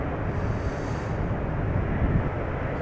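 Embraer jets at Amsterdam Schiphol Airport give a steady, broad rumble of aircraft engine noise, continuous and fairly loud with some wind buffeting on the microphone and no talk.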